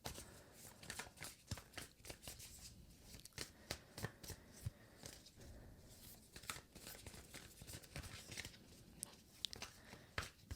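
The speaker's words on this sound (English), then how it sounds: "Apologize for the sloppy shuffling here" A deck of tarot cards is shuffled by hand in a quiet room, a continuous soft riffling and slapping with frequent crisp snaps, close to the ear and fairly faint throughout.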